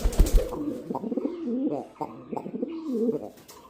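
A pet pigeon kept at home coos up close in soft, repeated rolling phrases, with a few short breaks between the calls.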